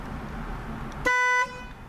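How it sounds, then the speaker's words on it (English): Horn of a 2015 Smart Fortwo Pure, a single loud, bright honk lasting under half a second, heard close up outdoors. "this is what the horn sounds like"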